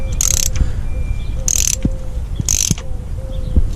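A ratchet tightens a spark plug on a 2001 Pontiac Sunfire with the 2.2L engine. It gives three separate bursts of quick, close metallic clicking, each about a third of a second long, with pauses between them.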